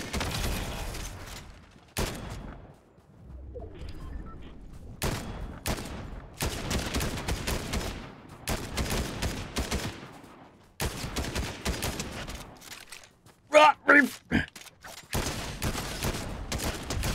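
Sniper rifle and assault rifle fire in Fortnite, loud sharp shots in irregular bursts and rapid volleys separated by short quiet gaps, with a clustered rattle of fire near the end.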